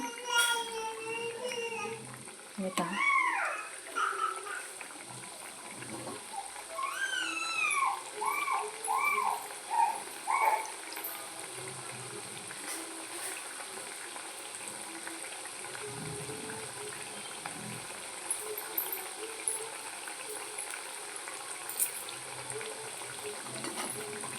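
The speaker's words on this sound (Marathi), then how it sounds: "छान असं खमंग तळून घेऊया" Red leaf vadi frying in oil gives a steady close bubbling sizzle throughout, while someone talks over it in the first half.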